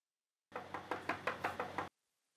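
Seven or eight sharp knocks on a door in an evenly spaced run, fairly close and clear, then an abrupt stop into near silence.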